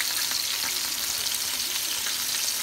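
Steak sizzles in a hot cast iron skillet, a steady, close, hissing fry with faint oil pops and no talking.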